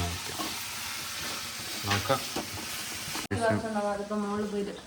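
Curry leaves sizzle and crackle as they fry in hot oil, a steady close frying hiss with stirring, while a voice talks over the latter part.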